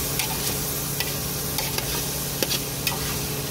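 Squash with chili powder is stirred in a hot pan, giving a steady sizzle broken by scattered scraping clicks of the utensil against the pan, close and continuous with no talking.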